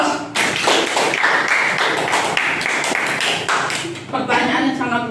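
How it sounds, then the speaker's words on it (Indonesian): An audience at an Indonesian academic lecture claps in a dense, steady burst for several seconds, with a voice coming back in at the end. "Kasih aplaus."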